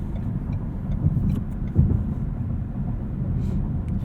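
Steady low road rumble inside a 2017 Ford Fusion Sport on the move, an even engine and tire drone filling the cabin with a brief swell midway and no talking.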